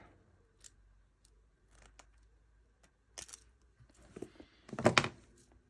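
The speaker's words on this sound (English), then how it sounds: "I'm going to cut the curly bits off." Scissors snip off curly ends of beading wire, giving soft, close clicks and light crunching snips. The sounds are sparse and faint, ending with a louder cluster of cuts.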